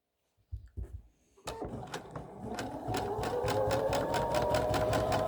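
A sewing machine stitching quilt squares, starting after a few handling thumps with a sharp clunk, then a rapid, even mechanical chatter that speeds up and holds steady and close.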